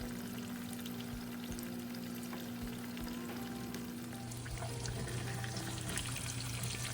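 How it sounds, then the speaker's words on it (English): Farm-fresh eggs frying in a skillet, producing a continuous fine crackling sizzle close by at low level with a faint steady hum underneath, no voices. "Let those eggs cook a little bit before we try to move them"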